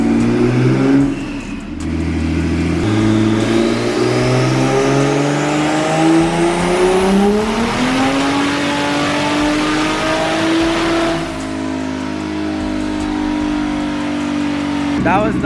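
A turbocharged BMW E46 M3 revs hard on a dyno in an enclosed space, a loud sustained pull climbing steadily in pitch before dropping back. Voices are faintly audible beneath it.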